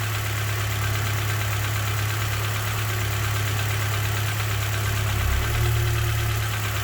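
A K-swapped Honda Civic EP21 engine idles while warming up, giving a steady, close low rumble with a slight rise in pitch near the end and no voices over it.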